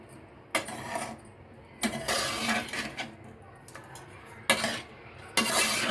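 Coconut rice with ginger, pepper and cumin being stirred and turned in a pot, with a few distinct bursts of scraping and clattering spaced through the clip, moderately loud and close, with no talking.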